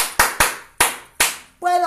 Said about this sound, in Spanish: Puedo aplaudir.